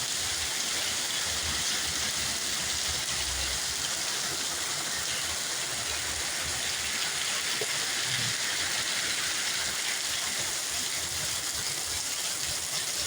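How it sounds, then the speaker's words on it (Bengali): Heavy rain pouring down outdoors, a steady dense broadband wash of water with no pauses and no voices, loud and continuous throughout. "প্রচুর বৃষ্টি হইতেছে।"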